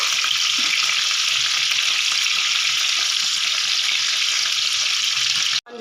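Bell peppers (capsicum) fry in a pan with a constant close, bright sizzle and crackle that runs unbroken until a brief knock near the end.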